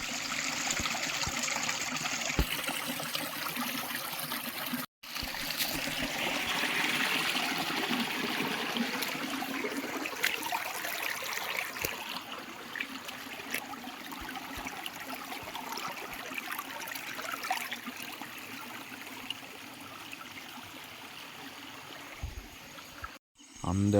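Rainwater stream running down from the hills and forest pond, a continuous rushing gurgle of flowing water heard nearby, steady for most of the stretch with brief breaks.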